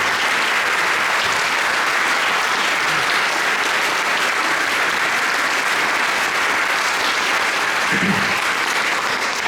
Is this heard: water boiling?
no